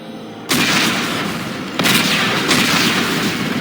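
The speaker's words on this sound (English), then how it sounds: "Computer, arm explosives. And detonate." Explosives detonating in the Dead Space game: a sudden loud blast erupts after a quiet moment, followed by a second heavy boom and a third rumbling burst, leaving a dense roaring wash of debris and noise.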